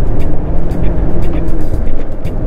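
A car driving along the main road of a forest recreation area toward its RV loop, giving a steady, loud engine and road rumble that fills the whole stretch with no talk.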